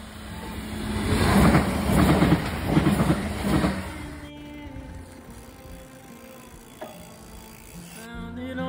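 Riding a passenger train between Lancaster and Preston: a loud rolling rumble with rhythmic wheel clatter that eases into a quieter hum and tonal whine, with a faint click later on.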